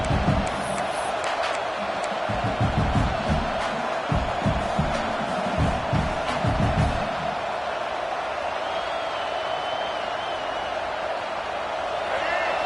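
Stadium crowd at a college football game in NCAA 26, a broad steady roar with bursts of cheering and thumps, continuous throughout while a commentator talks over it.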